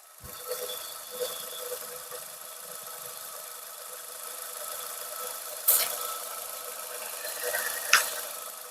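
A steady petrol engine of a 2021 Maruti Ertiga ZXI with 80,000 km idles close by, a constant even hum with no speech, broken by a couple of sharp clicks near the end.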